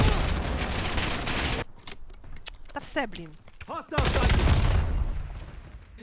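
Gunfire in the Call of Duty Black Ops 7 video game comes as dense, loud bursts at the start and the end. Someone talks briefly in the quieter middle stretch.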